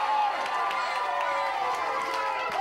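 A crowd cheering around a wrestling ring at a British Championship contender's match, a steady, dense roar of voices with scattered shouts and claps, held at a fairly even level throughout.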